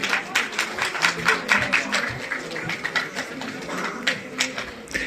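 Audience applause for school winners at an outreach programme in Kargil, Ladakh, as steady mid-distance clapping from a modest crowd runs throughout.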